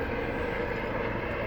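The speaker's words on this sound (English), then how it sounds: "sorry about the plane above me" Steady, broad roar of an airplane passing overhead outdoors, continuous and fairly loud with no talk over it.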